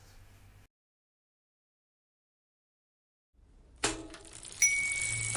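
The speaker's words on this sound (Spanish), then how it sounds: "Bicicleta." A bicycle bell: after a faint low hum and a long silence, a bright metallic ring sounds, followed by a second louder ring that lingers over a low background noise.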